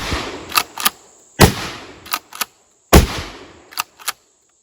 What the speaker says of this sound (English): literally how light the recoil is of a 12 gauge shotgun